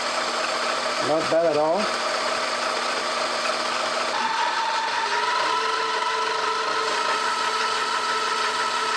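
Mini-lathe turning aluminum with a carbide insert at a little over 1,000 rpm: a steady close-up mechanical whir with a faint cutting hiss, plus a brief voice near the start.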